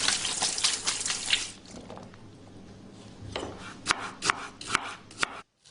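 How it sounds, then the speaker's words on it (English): Freshly pulled, rinsed shallots are chopped on a board after running tap water, with a series of sharp, close knife taps coming in an uneven rhythm toward the end, with no voices. "Chop up the shallots and try not to cry."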